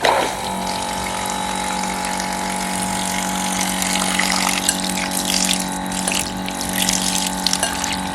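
Water runs steadily from a tap over a constant low mechanical hum, with no talking.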